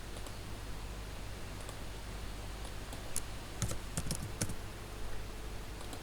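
Typing on a computer keyboard, scattered light key clicks and a few quick bursts of taps over a steady low hum, faint and close, with no talking.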